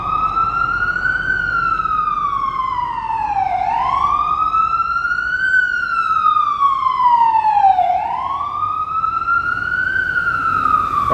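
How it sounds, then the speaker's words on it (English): An ambulance siren wails loudly on a New York City street, its pitch sweeping up and down in slow repeating cycles, close and dominant above a low traffic hum. "That's an ambulance."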